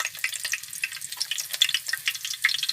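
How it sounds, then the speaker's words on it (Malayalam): Green chillies dropped into hot oil for a home-style mackerel curry, a crackling, spattering sizzle that pops irregularly and stays fairly soft and close. "നമ്മുടെ എണ്ണ ചൂടായി. ആദ്യം നമ്മൾ പച്ചമുളകാണ് ഇടുന്നത്."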